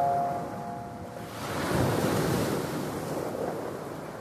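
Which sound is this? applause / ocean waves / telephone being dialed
ocean waves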